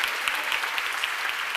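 A church congregation clapping hard during a sermon at a seminar, a brief, dense burst of many hands applauding together at close range.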